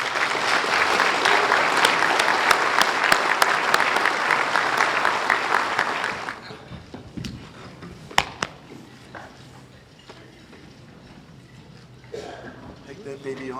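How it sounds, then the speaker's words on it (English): A ceremony audience bursts into loud, dense applause for a newly honoured member, the clapping filling the first half before dying away to scattered claps, a few sharp knocks and quieter room sounds. "Please join me in a round of applause"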